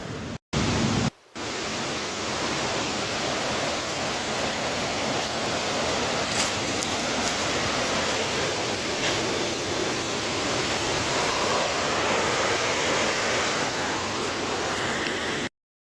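Steady rushing water from a waterfall beside a campsite in Central Patagonia, a dense, continuous roar heard fairly close and unbroken, with no voices over it.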